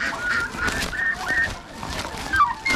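A turkey gobbles amid noisy poultry chatter, with several warbling calls over a steady background din.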